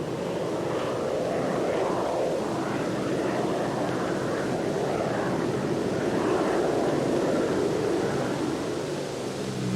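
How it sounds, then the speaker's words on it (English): A Convair B-36 bomber with jet engines climbs after takeoff, giving a continuous broad roar that stays steady and fairly loud throughout. "And with the extra thrust of those jet engines behind her, she wastes no time doing it."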